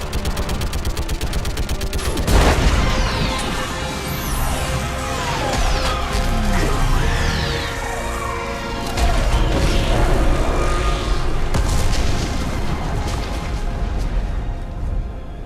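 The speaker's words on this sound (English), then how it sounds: "I need an orbital strike." Orbital strike explosions boom and crash continuously in Mass Effect 3 on Rannoch, loud and dense, with rumbling blasts, gunfire-like crackle and mechanical whines layered throughout.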